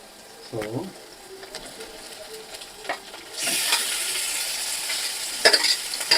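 Chicken goes into a hot home kitchen pan: quiet stirring first, then a sudden loud sizzle that holds steady, with a brief voice near the start.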